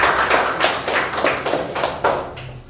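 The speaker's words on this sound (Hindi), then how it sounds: "एक बार अपने लिए ताली बजा लीजिए।" A group of schoolchildren claps for themselves in a classroom, loose rhythmic bursts of hand claps repeating about every half second, close and fairly loud with no talking.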